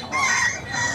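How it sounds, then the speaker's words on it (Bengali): A hill rooster crows loudly and close by at a busy rural poultry market, one sustained strident call filling the moment. "দর্শক এই বাজারে এসে এই যে পাহাড়ি মোরগ দেখতে পেলাম।"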